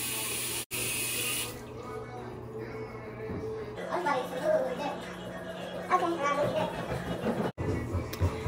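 Tap water runs steadily into a cupped palm to wet a small dab of lip scrub at a bathroom sink, a continuous close splashing that shifts as the hand moves under the stream.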